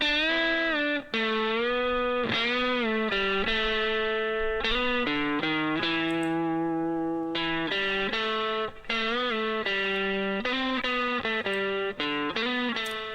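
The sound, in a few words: guitar with reverb effect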